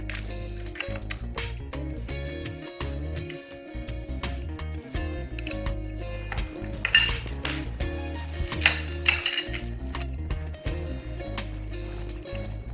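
Screws and frame parts of an Atomstack A5 laser engraver are handled, producing scattered small metallic clinks and taps, some close and sharp, over a steady background of music.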